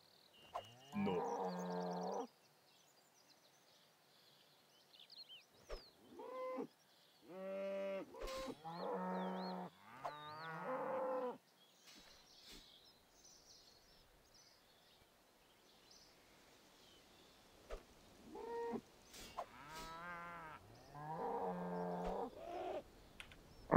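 Cows moo on a farm in a video game, with several long, close lowing calls spread over the stretch and quiet gaps in between.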